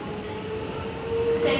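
A train departs Flinders Street station, its motor whine and rolling rumble building steadily over a couple of seconds, with a higher tone emerging near the end.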